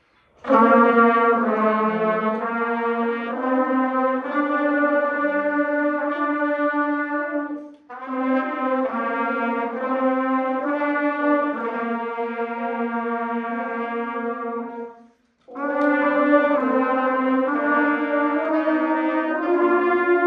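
A group of high brass instruments plays a slow unison exercise together, three long phrases of sustained notes separated by brief pauses.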